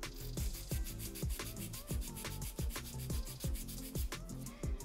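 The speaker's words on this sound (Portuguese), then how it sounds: "Viramos a mão e vamos limar do outro lado." A nail file rasps back and forth along the side of an acrylic nail, steady rhythmic scraping strokes, close and clear with no talking.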